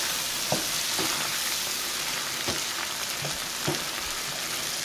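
A cup and a half to two cups of beans with broth added to softened onions in a pot, a steady close sizzle with occasional stirring clacks and scrapes on top, no voices.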